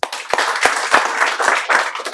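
A classroom group claps and applauds in a brief burst of scattered, overlapping hand claps with sharp individual strikes, moderately loud and close.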